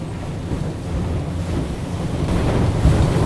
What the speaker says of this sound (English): I think we're having something like half-meter waves at the moment, so just fun enough to be skipping a bit